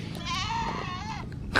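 A single goat bleats loudly and close by at sunset on the Gigantes Islands, Philippines, one wavering, nasal cry lasting over a second, with no talking.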